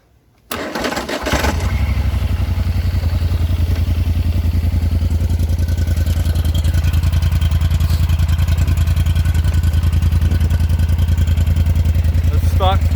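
A Polaris Sportsman 1000 High Lifter ATV fitted with its rusty stock muffler starts with a brief crank and catch, then settles into a loud, steady, close idle that runs unbroken to the end.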